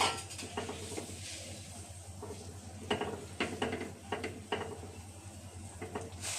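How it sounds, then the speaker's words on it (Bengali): Banana flower masala with chili powder and a little water is stirred in a pan over steady low sizzling, with a spoon scraping and clinking against the pan in a loose rhythm, close up and without speech. "এখন অল্প কিছুটা জল দিয়ে আমি কষিয়ে নিচ্ছি।"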